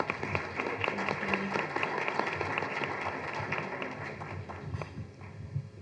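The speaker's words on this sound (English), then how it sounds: "let's give a really big round of applause to Dr." A crowd at a presentation applauds to welcome Dr. Carl Cohn: dense, sustained clapping from many hands fills the room steadily without letup, loud and close, then begins thinning toward the end.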